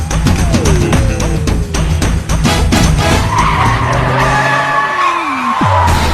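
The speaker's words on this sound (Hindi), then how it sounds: "अपनी गाड़ी ठोक दी।" Tires squeal and skid loudly as a car slides in a horror-movie scene, with shrieking, falling whines over a rumbling engine and rapid scraping bursts, ending in a sharp final screech.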